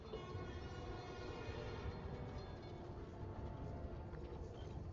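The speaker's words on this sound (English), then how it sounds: "Come on, trusty New York subway." A New York subway train in Spider-Man: Miles Morales powers up with a steady, loud rumble and rolling rail noise that holds throughout, with a faint horn-like tone in the mix.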